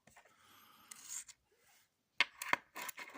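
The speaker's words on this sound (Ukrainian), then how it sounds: "зараз зніму ще легенько відкручу гайку" A metal nut is unscrewed from a Soviet SP3-4GM resistor, giving faint scraping and rubbing at first, then a few sharper metallic clicks close by near the end.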